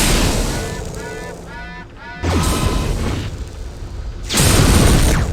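A mech in the video game Mechwarrior 3 fires its weapons as a group, heavy booming blasts and roaring discharges that swell in two loud surges over a constant mechanical rumble, with brief voice chatter in between.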